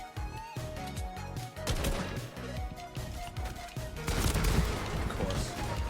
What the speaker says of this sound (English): Why am I getting shot at?